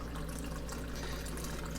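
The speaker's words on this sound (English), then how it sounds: "We're gonna give this good shaky, and we pour" A shaken drink of pineapple and lime juice is poured in a steady, continuous liquid stream that stays even and fairly quiet throughout, with no voices over it.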